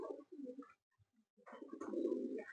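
Pigeons offered for sale coo close by in soft, low, throaty bursts, two rounds of cooing separated by a short quiet gap, with no talking.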